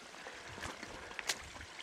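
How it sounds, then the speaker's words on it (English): A small woodland stream in the Quantock Hills on a hot summer day, flowing with a soft, steady trickle and faint splashes, quiet and close with no talking. "A bit of a stream here"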